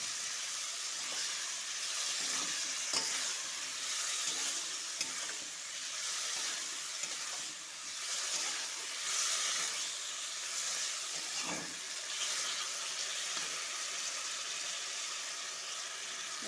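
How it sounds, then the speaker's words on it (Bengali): Cucumber fries with ground spice paste in a pan, giving a soft, steady hiss and sizzle with occasional faint stirring scrapes and no voices. "একটু মশলাটা কষাবো।"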